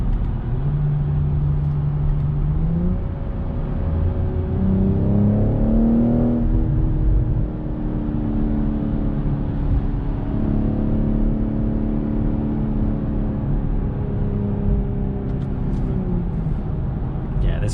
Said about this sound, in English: this car is a bullet, and sounds good, drives good